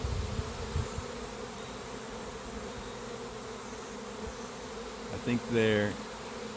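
A swarm of honey bees drones loudly around a peach tree, a dense, steady buzz throughout, with a few brief spoken words near the end.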